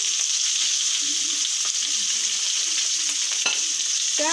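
Rohu fish frying in oil in a pan, a loud steady sizzle with a few scraping stirs and clinks, no talk.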